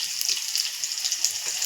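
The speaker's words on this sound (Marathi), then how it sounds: "राई एकदम तडकली की आपण लसूण टाकूया." Crushed garlic, seven or eight cloves, sizzles in hot oil with spluttering mustard seeds for a homestyle Indian tempering. A steady bright hiss is dotted with quick irregular crackles and pops, close and alone.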